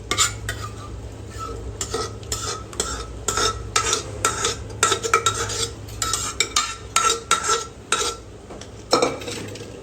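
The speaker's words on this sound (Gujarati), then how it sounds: "ગ્રેવી નાખીને એકવાર હલાવી લેવાનું હરખાઈએ." Pav bhaji gravy with mashed brinjal being stirred in a large pot, giving steady scraping and clinking of a spoon against metal in repeated strokes, close and fairly loud, with no talking.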